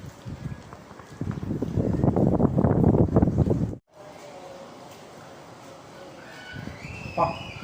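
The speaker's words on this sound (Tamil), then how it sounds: "காற்று பயங்கரமாக அடிக்குதுங்க." Loud, gusty wind from Cyclone Fengal roars against the microphone for several seconds, drops off abruptly, then continues as a softer rushing with faint voices and movement.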